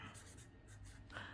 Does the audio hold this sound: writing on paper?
yes